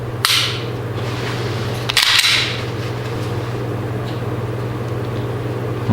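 Stock Glock 19 Gen 4 trigger breaking and resetting: two crisp, faint clicks about two seconds apart over a steady low electrical hum.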